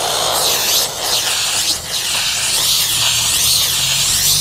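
Steam cleaner releasing a continuous, loud, close hiss of steam with slight surges in intensity, no talking.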